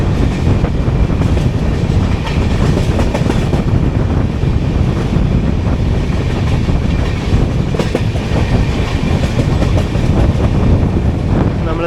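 The 16218 Shirdi Mysuru weekly express rolls into Raichur station, its loud, continuous rumble carrying steady clickety-clack from the wheels along with some wind buffeting the microphone.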